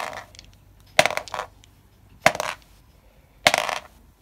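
In a Warhammer 40k tabletop game, a handful of dice is rolled three times, each roll a short clattering burst, close and moderately loud, with quiet pauses between.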